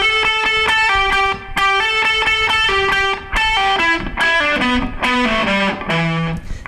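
A distorted electric guitar plays a hammer-on lick, a run of sustained, ringing notes picked and hammered in steady succession that step downward toward the end, loud and alone with no voices.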